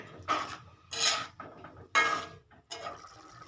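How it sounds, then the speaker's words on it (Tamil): Egg gravy being stirred in a pan after water is added, with intermittent scraping, rasping and clinking of a utensil against the pot in short bursts, close and fairly quiet. "தேவையான அளவுக்கு தண்ணியை ஊற்றிங்க தண்ணி ஊற்றிட்டு நல்லா மிக்ஸ் பண்ணிக்கிங்க"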